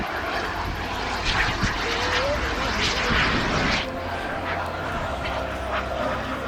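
Homebuilt propeller aircraft modeled on a Pilatus drones loudly overhead while flying slowly at an air festival in Villeneuve-sur-Lot, its engine note swelling, then easing slightly midway, with a dog barking faintly and someone speaking over it.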